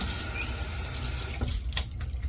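Water runs steadily from a tap into a sink, a constant close rushing hiss with a few brief clinks near the end and no talking.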